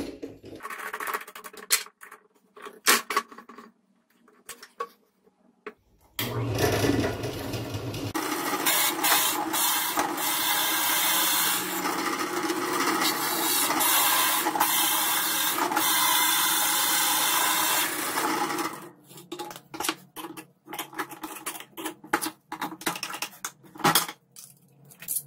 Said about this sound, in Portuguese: Aqui nós vamos usar, ó, uma broca de 51 milímetros.